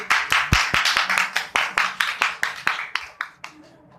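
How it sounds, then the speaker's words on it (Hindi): A church congregation at a Sunday meeting claps in rhythmic unison to welcome the pastor, a steady run of sharp, evenly spaced hand claps that slows slightly and thins out toward the end, with no talking over it. "आप सबकी भरपूर तालियों में पास्टर तारों को दावत देंगे"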